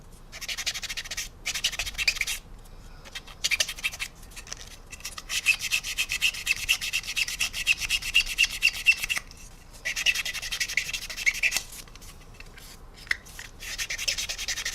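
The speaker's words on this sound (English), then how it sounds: "you're really polishing your paintwork up too" Weathered paint on a model US military aircraft is rubbed and polished by hand in quick, rhythmic, scratchy strokes, close up, with a few short pauses between bursts of rubbing.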